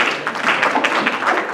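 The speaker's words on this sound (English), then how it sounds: "That was a really pathetic clap." Brief, thin applause from a conference panel audience, a dense patter of clapping at moderate level lasting under two seconds, with no talk over it.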